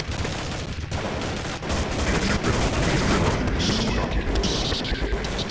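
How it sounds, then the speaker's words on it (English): M249 machine gun firing in the video game Counter-Strike: Condition Zero, rapid dense bursts of loud gunfire with crashing impacts running almost continuously from start to finish. "the M249. It's the machine gun."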